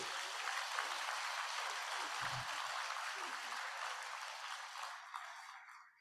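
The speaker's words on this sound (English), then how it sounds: "round of applause" Sustained audience applause at a Nigerian Society of Engineers fellowship conferment ceremony, a steady broadband wash of clapping that holds evenly and then tapers off near the end.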